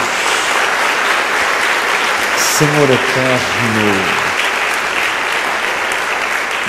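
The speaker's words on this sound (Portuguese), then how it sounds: "Dê uma salva de palmas ao Senhor" A church congregation gives sustained applause, a dense steady roar of clapping throughout, while a voice speaks briefly over it midway.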